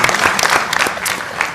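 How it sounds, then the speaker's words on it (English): A brief burst of audience applause at a social action event, dense and fairly loud clapping that carries from start to finish. "Let's give him a round of applause."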